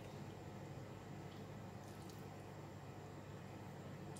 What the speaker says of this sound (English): I'm going to put it inside the bowl first, and I'm going to pour over just a little bit of the